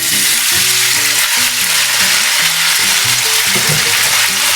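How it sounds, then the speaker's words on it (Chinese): Marinated chicken pieces fry in hot oil in a wok over medium heat, a loud, steady, dense sizzle and crackle filling the whole stretch with no voices. "放入腌制好的鸡肉"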